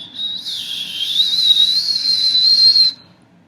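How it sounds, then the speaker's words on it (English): A real whistle blown by a boy hiding under a carton: one sustained, clear high-pitched tone lasting about two and a half seconds, swelling slightly then stopping abruptly, heard alone and close. "out came a real whistle."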